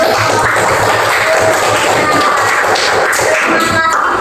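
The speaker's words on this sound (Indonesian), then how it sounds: "Tepuk tangan untuk" Classroom applause after a group presentation on the digestive system, a steady patter of many hands clapping throughout, fairly loud and close.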